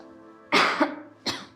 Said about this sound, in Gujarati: ઉધરસ તો જો કેટલી આવે છે